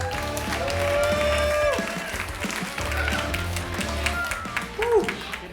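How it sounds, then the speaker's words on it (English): A comedy club audience claps and applauds for a comedian, a steady ripple of clapping with a few cheers mixed in, while voices speak over it. "Big round of applause for Jacob Englander."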